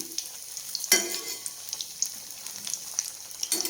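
Snacks frying in hot coconut oil in a home kitchen, a soft steady sizzle and bubbling with occasional sharper crackles and light stirring clicks, fairly quiet and with no talking.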